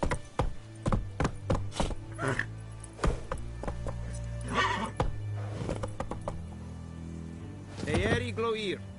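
Geralt's horse Roach galloping in The Witcher 3 game, repeated hoof thuds and sharp impacts with a loud whinny near the end, mixed with game sound effects.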